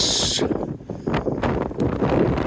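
Strong wind around 35, gusting to 40, buffets the microphone outdoors during a tent test in rough, roaring gusts, rising and falling over a low rumble.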